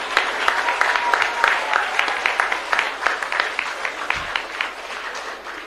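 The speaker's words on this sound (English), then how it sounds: "Let us all give Sri Arvind Kejriwal ji a big round of applause." A crowd at the launch of an e-library in Benaulim, Goa, applauds warmly to welcome Arvind Kejriwal, with dense, steady clapping sustained throughout without talk.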